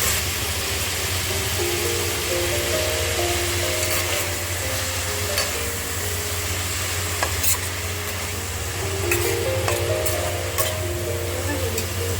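A steady sizzle of chopped onions frying in mustard oil in a pan, with occasional stirring scrapes and a constant low hum of a stove in the background.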